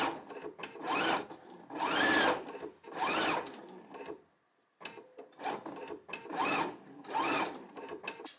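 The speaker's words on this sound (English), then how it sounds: "make sure that you're not getting any puckers under that needle as you stitch around the curve" A sewing machine stitches a curved seam in quilt patchwork, running in several loud bursts of rapid whirring separated by brief pauses, heard close and alone.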